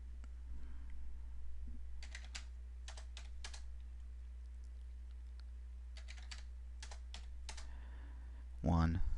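Fast typing on a computer keyboard comes in quick, faint clusters of key clicks against a low hum, ending with a brief louder sound.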